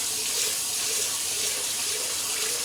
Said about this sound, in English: Make sure you wash your rice.